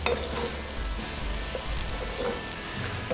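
Chopped onion frying over high heat in a hot pan, a dense steady sizzle and crackle with light stirring scrapes throughout.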